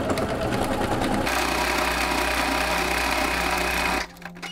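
A sewing machine stitches fabric scraps into a bag, running in a loud, continuous mechanical whir for about four seconds and then stopping abruptly.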